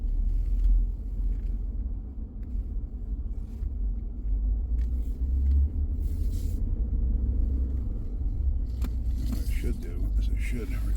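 A Ford F150 pickup with a stalling problem after a fuel fill-up drives up a road, its engine and tyres making a steady low rumble from inside the cab for the whole stretch, with some faint scraping noises along the way.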